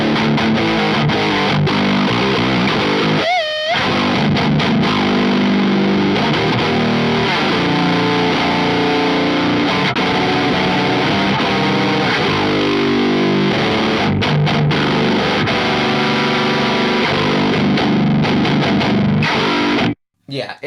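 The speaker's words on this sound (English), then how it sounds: "this is just kind of pure crunch, mid-range, chunky distortion" Heavily distorted electric guitar, a G4M 529 Pro-FR, chugs through chunky, mid-range palm-muted riffs, loud and continuous with a brief gap early on and an abrupt stop at the end.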